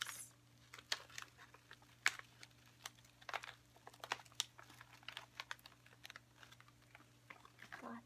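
Small plastic snack packets from a Munchpak box crinkle and rustle in quick, close bursts scattered across the clip, with soft faint handling noise between them and a low steady hum underneath.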